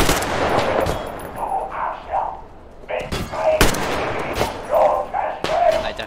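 Machine gun fire in Metro Exodus comes in short sharp bursts and single cracks spread across the clip, loud and close, with voices talking between the shots.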